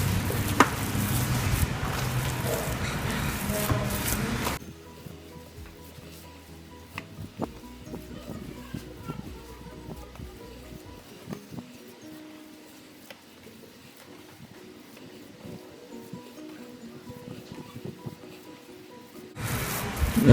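A burger patty mixture with pineapple is worked by hand, making soft, wet squishing and kneading noises over a quiet stretch, framed by louder background bursts at the start and end.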